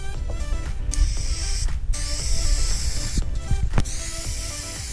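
Contact adhesive hisses from a spray can in several short bursts onto the roof lining of a T4 campervan, close and loud, separated by brief pauses with some handling noise.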